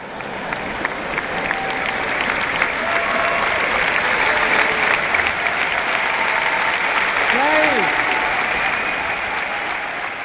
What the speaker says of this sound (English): Some of you are not clapping